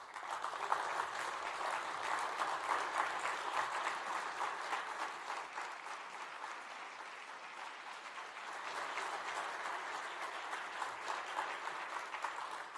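A summit audience rises in a standing ovation for an ambassador, its broad, sustained applause filling the hall evenly for several seconds without letting up.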